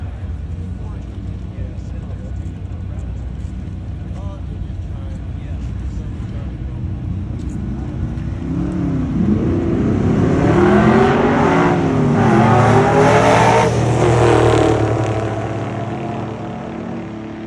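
Drag race cars, including a 1964 Chevy Nova, roar off the line and build into a loud, rising engine howl that peaks and holds, heard nearby under an announcer's voice.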